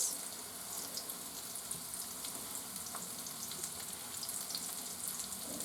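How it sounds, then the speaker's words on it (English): Oysters frying in oil heated to about 425–450 degrees, a steady close hiss and crackle of sizzling with faint bubbly pops running throughout, no talking. "Put the first one in. If it starts sizzling, then it's hot enough."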